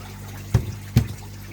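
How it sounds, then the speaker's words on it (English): Two distinct drips fall from a leaking fitting on a newly filled water filter, spaced about half a second apart. Each lands close and clear over a low steady hum. "A little bit of one there, just dripping there."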